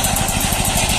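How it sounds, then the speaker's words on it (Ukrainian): Shifeng SF-240 mini tractor engine runs steadily with a fast, even low throbbing pulse and constant loud mechanical noise, close by, during potato digging with a conveyor-type digger. "Трактор із пекла."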